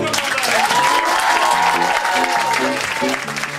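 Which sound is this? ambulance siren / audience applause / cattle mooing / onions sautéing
audience applause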